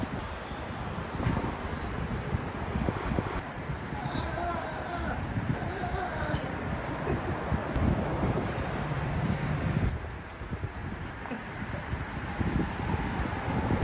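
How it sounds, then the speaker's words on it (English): Strong wind buffeting the microphone outdoors at a Gulf Coast roadside spot, a constant loud rumbling roar with gusty swells throughout, and a person talking underneath. "It's quite windy."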